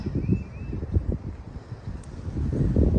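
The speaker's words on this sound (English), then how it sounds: "That is a cold wind." Cold wind gusts roughly against the microphone, rumbling and buffeting in uneven bursts that swell toward the end.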